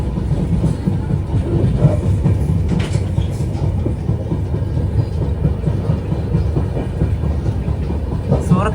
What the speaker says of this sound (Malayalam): ട്രെയിൻ ഇതാ ഇതുവഴിയാണ്.